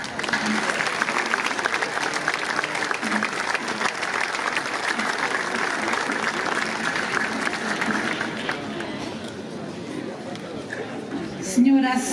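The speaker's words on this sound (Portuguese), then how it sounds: "Vamos recebê-la com uma calorosa salva de palmas." Warm, sustained applause from the audience at the opening of the Festas da Madalena on Pico in the Azores rolls on steadily, a thick even clapping with crowd murmur that thins toward the end before a voice begins.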